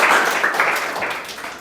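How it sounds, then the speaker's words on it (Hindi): Children in a classroom clap for themselves, a dense burst of many small hands that stays fairly steady for under two seconds before tapering slightly. "तो एक बार अपने लिए ताली बजा लीजिए"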